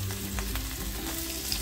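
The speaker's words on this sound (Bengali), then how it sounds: "কিছুকে একসাথে একটু ভালোভাবে ভাজা ভাজা মতো করে নেব।" Soya chunks fry in hot oil, giving a steady, close crackling sizzle with faint stirring scrapes and no voices.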